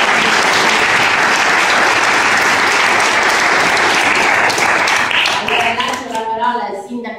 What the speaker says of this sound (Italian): Quindi ancora un applauso a tutti.